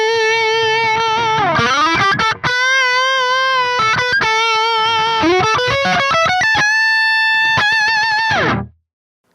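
Electric guitar run through a Neural DSP Soldano SLO-100 overdrive with the master volume cranked, playing loud, saturated sustained notes and slides alone, with a few choppy bursts before a final held note and a clean cutoff.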